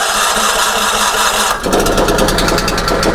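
A Yard Machines snowblower engine runs loud and close with a steady drone, then the auger engages partway through and adds a rapid, rhythmic churning pulse over the engine noise.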